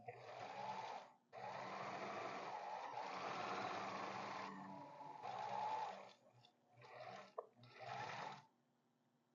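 Sewing machine stitching an aligned seam for an invisible zipper, running in loud, steady bursts of whirring with short pauses between runs, close and clear.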